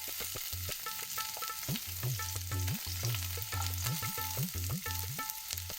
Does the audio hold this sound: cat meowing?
no